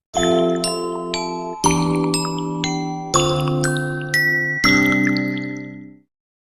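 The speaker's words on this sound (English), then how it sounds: "ZTE chimes create a quirky vibe" A ZTE smartphone chime ringtone rings four bright bell-like phrases, each struck note ringing out over a sustained tone, close and clear, ending with a quick fade.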